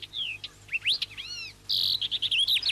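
Birds chirp in the morning, loud and close, with rising whistled notes and curved slurs that give way to a rapid burst of bright, repeated chips, with no voices over it.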